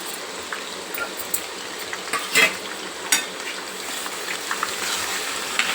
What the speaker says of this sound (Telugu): స్టవ్ ఆఫ్ చేసుకున్నాక కూడా ఎల్లిపాయలు ఇట్లా వేగుతున్నాయి చూడు